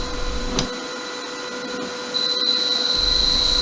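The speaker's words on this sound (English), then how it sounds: "the motor rotates at a lower rate" An electric motor driven by an LS inverter at a low 15 Hz setting gives a steady hum with a faint whine that rises partway through. It runs continuously, fairly quiet and close, with no voices.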